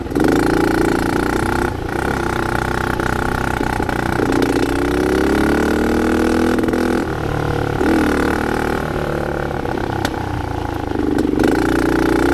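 Dirt bike engine on freshly graded roads at -35°C, idling steadily and then revving up and down in repeated swells, loud and close throughout with no talking.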